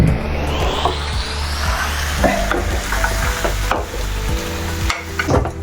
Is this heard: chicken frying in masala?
yes